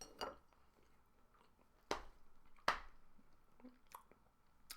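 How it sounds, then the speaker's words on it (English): Quiet mouth sounds of chewing food, with a few sharper crunchy or clinking bites standing out among soft, irregular smacking in an otherwise silent pause between podcast conversation. "Now that awkward silence is over and I'm done chewing"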